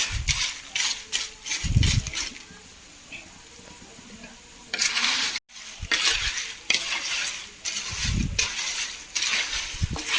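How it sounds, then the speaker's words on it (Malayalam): Spatula scraping and stirring jackfruit chips frying in oil over a high flame, with a soft sizzle underneath and occasional clinks of utensil against metal. "രണ്ട് മിനിറ്റ് ഒന്ന് ഇളക്കി കൊടുക്കുക തീ സിമ്മിൽ വെക്കണ്ട മാക്സിമത്തിൽ തന്നെ വെച്ചിട്ട്"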